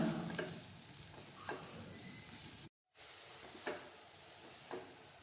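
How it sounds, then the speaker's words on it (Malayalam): Chili flakes are stirred into a sizzling mixture in a pan. A soft, steady fry hiss runs under a few scraping strokes, with a brief silent gap midway. "എന്നിട്ട് ഇത് നന്നായിട്ടൊന്ന് മിക്സാക്കി കൊടുക്കാം"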